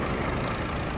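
A 2004 Case IH MXM155 front wheel assist cab tractor with power shift transmission, its engine running with a dense, steady low rumble, loud and close for a moment.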